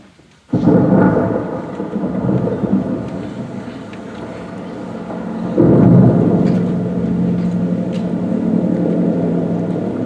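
A staged thunderstorm effect in a theatre play: deep rolling thunder rumbles on under steady rain, with a second heavier crack and roll midway, loud and continuous without speech.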